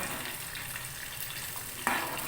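Cumin, mustard seeds and chana dal frying in hot oil: a soft, even sizzle throughout with one brief clink of a utensil near the end, no talking.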